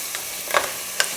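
Tomatoes sizzle in a hot pan while being stirred for a kuzhambu, a soft steady frying hiss broken by a few brief scraping clicks, close and fairly quiet.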